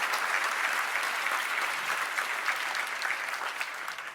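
Sustained applause from an audience at a 2023 law enforcement awards ceremony for Civilian of the Year nominees, steady and fairly near, with no talking over it.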